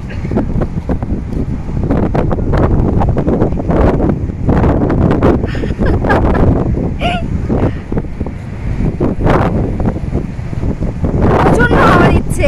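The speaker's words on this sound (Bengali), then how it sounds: "একদম সমুদ্রের পাশে তো প্রচন্ড হাওয়া দিচ্ছে এখানে" Strong seaside wind at Puri beach buffets the microphone in loud, gusty rumbling bursts, with surf washing underneath and people talking over it.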